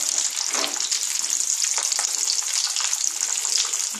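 Egg chops frying in hot oil, a bright, dense hiss and crackle held close and steady for a few seconds with no speech.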